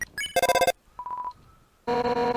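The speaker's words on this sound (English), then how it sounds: "But you got a phone call, so I had to wait." A phone ringing in the video game Undertale: bright electronic ringtone bursts, a short rapid chime pattern, a pause with a faint beep, then the loud ringing returns, with no talk.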